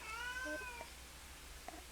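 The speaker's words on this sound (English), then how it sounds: "He was meowing for catnip" A talkative pet cat meows insistently for catnip, one long drawn-out meow near the start, then quiet room tone with a faint second call.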